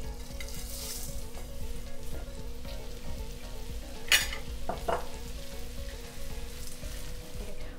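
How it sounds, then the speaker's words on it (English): Vermicelli fries in melted margarine, a steady close sizzle and crackle with occasional scraping stir strokes, while soft kitchen hum runs under it. "Now we're going to add the vermicelli."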